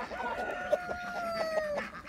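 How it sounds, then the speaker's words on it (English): Several roosters crow with a drawn-out cry over steady background clucking from a flock of chickens, fairly close and lasting about two seconds. "But here's a whole bunch of roosters right here."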